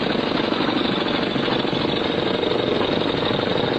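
Military dispatch motorcycle engine running with the throttle wide open while fording a stream, a steady, loud, rough mechanical roar with no pauses.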